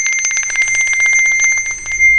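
A small handbell is shaken rapidly at the end of a musical piece, producing a bright, continuous jingling trill of fast repeated strikes with ringing overtones, close and clear with no speech.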